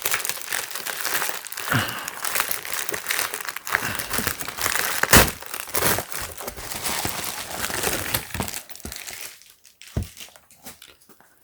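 Crinkly plastic and cardboard packaging for a two-pack of brushed nickel wall-mount towel hooks being torn open and handled, with close, uneven crumpling and rustling bursts and brief pauses.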